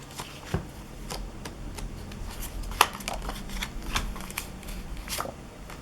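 A stack of vintage map cards being handled and shuffled through, with light, scattered card flicks and taps up close over a quiet room background.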